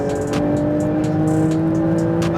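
A supercar on a Las Vegas race track, its engine droning loudly and close with a steady tone, then briefly breaking as it upshifts; no talk.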